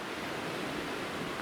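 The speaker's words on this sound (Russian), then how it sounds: "Ну вот оно, Черное море." Black Sea waves break on the shore at Alupka in Crimea on a cool spring day, a dense, steady wash of surf heard alone with no pauses.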